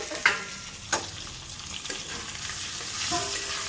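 Boiled potatoes stirred in a pan over cumin and asafoetida tempering, a few distinct scraping knocks of the spoon over a soft, steady background sizzle, close by with no talk.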